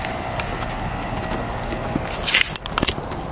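Horses walk along with hooves clip-clopping at a moderate distance, irregular steps over a steady outdoor background, with a brief louder clatter of hooves near the end.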